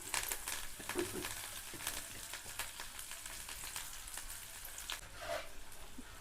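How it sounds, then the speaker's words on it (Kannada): Green chillies fry in a pan with a soft, continuous crackling sizzle, scattered pops and occasional stirring scrapes, heard quietly at close range without speech. "ಈಗ ನೋಡ್ರಿ ಹಸಿಮೆಣಸಿನ್ಕಾಯಿ ಚಲೋತ್ನಾಗ ಫ್ರೈ ಹಾಕತ್ತವು"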